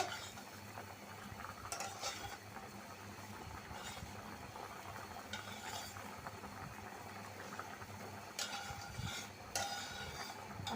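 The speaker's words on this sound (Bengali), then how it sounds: "তরকারিটা আমার বলকা এসে গেছে এখন আমি মাছটা দিয়ে নিব" Katla fish going into a bubbling curry with vegetable stalks, a steady boil and simmer throughout with a few sharp clinks of utensils against the pot, no talking.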